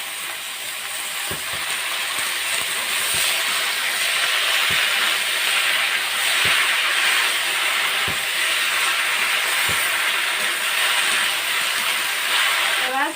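Chopped Malabar spinach and long-cut potato strips hit hot oil, giving a loud, steady broadband sizzle with faint scattered pops and clicks throughout.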